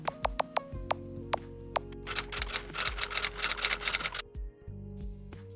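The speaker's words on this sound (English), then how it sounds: "now you can listen to the favorite keyboard sound that you missed before" An iPhone keyboard gives crisp, quick clicks, first a few spaced taps and then a rapid run of keystrokes, close and distinct with no talking.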